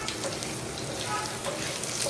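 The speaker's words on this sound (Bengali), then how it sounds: "তারপরে ডালনার আলুটাকে ভাজতে দিচ্ছি।" Potato pieces for a papad dalna fry in hot oil tempered with cumin and bay leaf, giving a steady, close, even sizzle with no breaks.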